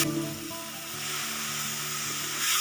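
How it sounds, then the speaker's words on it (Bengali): Spice paste of ground chilli, turmeric and coriander frying in a pan for Bengali tangra fish curry sizzles steadily and loudly after a splash of water is added, a continuous bubbling hiss with no talk. "সামান্য পরিমাণে জল দেব।"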